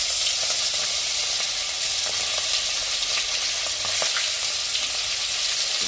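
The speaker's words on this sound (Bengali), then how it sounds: "এবার আমি মাছগুলো তেলের মধ্যে আস্তে আস্তে ছেড়ে দেব" Rita fish sizzling and crackling steadily in hot oil in a pan, a continuous dense frying hiss with small pops, close and fairly loud, no voices.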